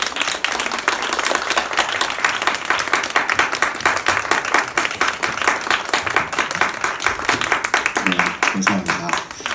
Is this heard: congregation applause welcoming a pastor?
yes